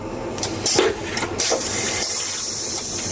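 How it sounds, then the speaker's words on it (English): A loud, sustained rushing hiss with a few sharp bursts at the start, like a powerful suction flush, close by, from a vacuum toilet in an office building. "this vacuum toilet in the office buildings"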